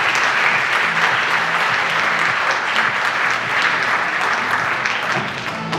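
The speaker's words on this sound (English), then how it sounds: "Let's give them a round of applause." Audience applause for contestants at the Miss Salem 2024 pageant, a full crowd clapping steadily and continuously, loud and even before tapering slightly at the end, with a faint murmur of sound beneath.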